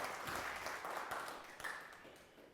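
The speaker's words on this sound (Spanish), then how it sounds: "Denle un aplauso al Señor, pues." A church congregation applauds during a Sunday service, a fairly quiet, steady spread of clapping that tapers off toward the end with no voices over it.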